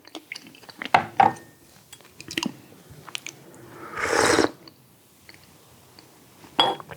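Sticky nian gao with fig is bitten and chewed up close, with several moist squishy bites, one longer crunchy burst in the middle, and quiet pauses between.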